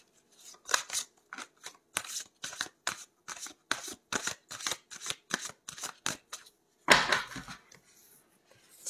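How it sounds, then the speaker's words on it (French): Tarot cards being shuffled by hand, a series of quiet, crisp riffling bursts in an irregular rhythm, close up, ending in a louder longer shuffle. "Et brasser les cartes encore 2 fois pour faire le tirage en 5 cartes"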